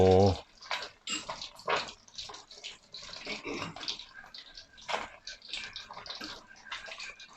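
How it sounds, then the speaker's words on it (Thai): Fish frying in a pan of hot pork fat, crackling and spattering in irregular bursts across the whole stretch, fairly close and moderately loud, with no talk over it. "ปลาเราทอดอีกกระทะหนึ่ง"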